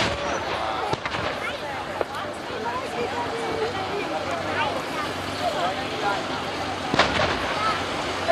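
Light artillery fires a rolling barrage at a WWII battle reenactment outdoors, with distant booms and a few sharper bangs under near, steady talking.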